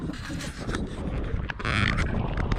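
Strong wind blowing across an open airfield, a loud rough buffeting roar against the microphone that surges and dips, close, with no talking.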